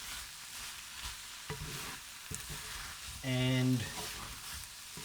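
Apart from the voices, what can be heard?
kumara stir-fry sizzling in a pan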